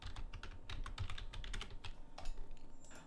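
Soft keystrokes on a computer keyboard as a password is entered, a steady run of light, quick clicks close to the microphone with faint background hum.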